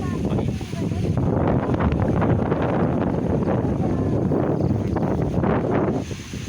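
Steady, loud wind buffeting the microphone throughout during an outdoor lot survey in Amadeo, Cavite, a dense low rumble with gusty surges and no clear voices.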